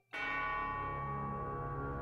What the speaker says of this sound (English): Of course, you gotta have that big church bell sample.